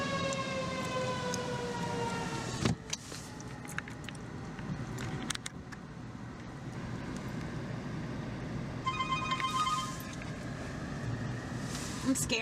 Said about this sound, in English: another siren is sounded for 3 minutes for the entire city.